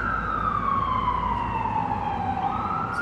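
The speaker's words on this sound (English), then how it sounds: "It's a police car." A police car siren wails in a smooth, steadily falling tone as it passes nearby, loud and continuous over a constant road rumble, with no voices.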